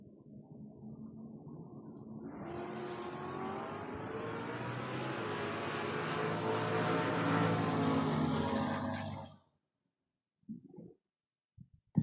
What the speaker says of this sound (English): 738 in the S10, taking on Steve Dickey here, tower side, 636 in the Camaro.